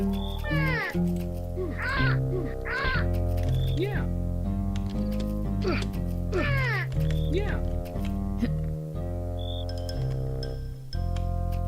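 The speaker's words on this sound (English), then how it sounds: "I'm probably gonna want to shoot down some birds." Crows caw in the Return to Dark Castle video game, several harsh rising calls repeating over a loud, steady synth music bed, fairly close and prominent.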